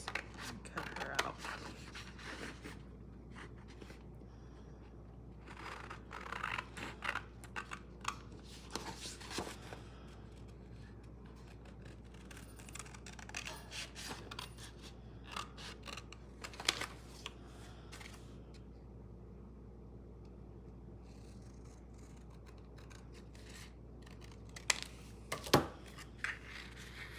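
Scissors cutting through paper while trimming a figure from decorative background paper for a grungy angels ephemera folder, heard as soft, scattered snips and rustles, faint and close, with a few sharper cuts near the end.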